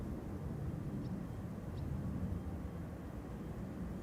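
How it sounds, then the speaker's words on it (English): A China Southern Cargo Boeing 777 freighter approaching Schiphol, heard as a steady, distant low jet rumble that holds at an even level throughout with no voices. "Now approaching is China Southern Cargo Flight 2578, going to Guangzhou in China."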